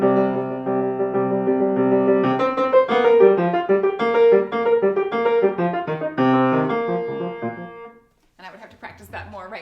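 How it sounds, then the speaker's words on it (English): Piano playing Bartók's Mikrokosmos No. 149, a Bulgarian dance, with a lively stream of close, fairly loud chords and notes in an uneven dance rhythm. The playing breaks off near the end and a voice begins talking. "149, and it's the Bulgarian dance"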